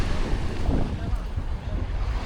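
Waves wash onto an Albanian beach before the tourist season, a steady broadband rush of surf mixed with wind buffeting the microphone, with a voice talking over it.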